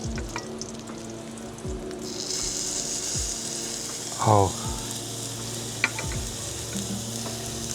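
A burger patty sizzles and fries on an electric grill, with a steady broadband hiss throughout and a brief louder burst midway as the meat is shifted; a voice gives a short exclamation.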